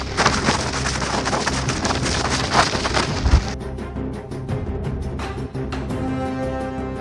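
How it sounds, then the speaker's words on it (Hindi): Rain falling in strong wind in cold mountains: a dense, loud roar of rain and gusts that suddenly thins partway through into sparser, lighter patter with scattered sharp taps. "बारिश हो रही है"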